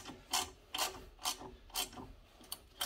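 A torque wrench tightens bolts on cheap four-piston Brembo brakes fitted to an E36, ticking in a run of short, evenly spaced ratchet clicks at moderate volume with no talking.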